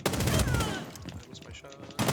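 Rapid bursts of automatic gunfire from a Rainbow Six Siege match crackle loudly at the start, then trail off into scattered fainter shots and game noise.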